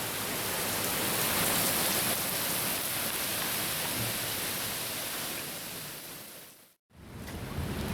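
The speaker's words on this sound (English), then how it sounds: "Alright, the rain let up." Heavy rain pours down steadily as a loud, broad wash of noise during a storm that has knocked out the power, then drops out abruptly for a moment near the end before resuming.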